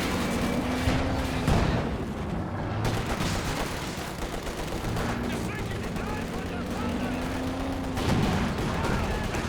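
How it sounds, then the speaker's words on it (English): Mortar team firing HM-38 mortars in a 1v1 tournament match of a World War II strategy game, a dense continuous barrage of booming blasts and gunfire rumbling throughout at high volume. "HM-38 mortars going out"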